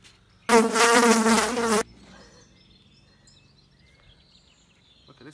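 A bee buzzing loudly and close by for just over a second during night-time moth trapping in the UK, then cutting off to a quiet background with faint distant rustles.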